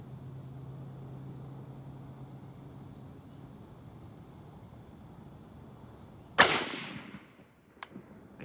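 An M1 Garand rifle fires a single sharp shot at a 100-yard plinking range, loud and abrupt after a long stretch of quiet outdoor ambience, its crack decaying over about a second.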